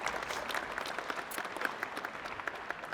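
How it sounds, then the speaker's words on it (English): Studio audience applause during a television discussion program, a steady crackle of many hands clapping at moderate volume, continuous throughout with no voices over it. "I heard some applause"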